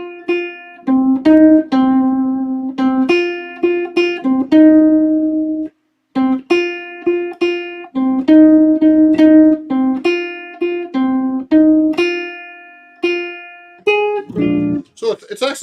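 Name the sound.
bluesy jazz ballad played on seven-string guitar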